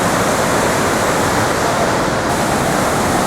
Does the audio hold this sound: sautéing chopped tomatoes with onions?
no